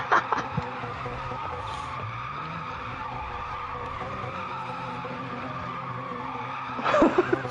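Tires squeal steadily as a car spins donuts in the racing game Wreckfest, a sustained loud skid over a rumbling engine, with sharper bursts at the start and end.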